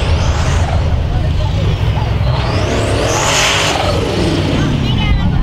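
A monster race car at the Trollhättan race pulls away hard, with a loud, roaring engine and a rising, sweeping pitch in a dense, continuous wash of track noise.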